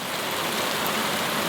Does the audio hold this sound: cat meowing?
no